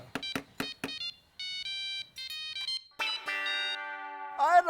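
Telephone ringtone plays as someone calls, a series of short electronic beeps followed by sustained synthetic melodic tones, clear and close with brief gaps.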